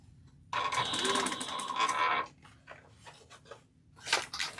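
A sewing machine back stitching a travel bag runs in a steady, loud whirring burst for about two seconds, then stops, followed by softer intermittent clicks and handling noises and a brief second burst near the end.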